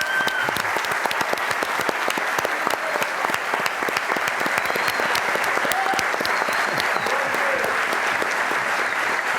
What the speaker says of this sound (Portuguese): eu peço uma salva de palmas para os nossos 5 debatedores